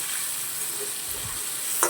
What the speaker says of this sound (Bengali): চিংড়ি মাছ কিন্তু বেশি ভাজার প্রয়োজন নেই, বেশি ভাজলে একটু চামড়া মতো হয়ে যায়, অল্পই ভাজবো।